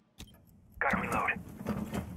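A weapon reloads in a video game: a sharp click, then a bright metallic sliding rattle lasting about half a second, followed by mechanical clacks, with a player speaking over it.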